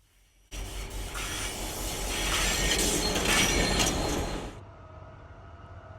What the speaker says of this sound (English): I caught up with a train that shows you simply can't beat vintage power